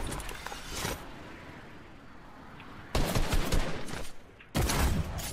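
Bursts of gunfire in the Fortnite video game: a short volley near the start, then two loud sustained rapid-fire bursts later, crisp and close with game ambience between them.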